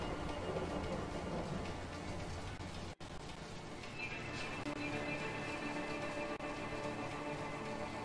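Steady rain and a low thunder rumble fill a stormy scene in the video game A Way Out, a continuous wash of downpour with no talk over it.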